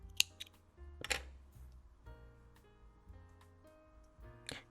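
Scissors trim excess yarn on a small crochet mug rug, giving a few faint, sharp snips spaced apart in a quiet room.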